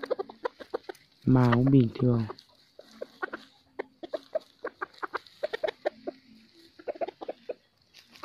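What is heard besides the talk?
F3 high jungle-blood chicken clucking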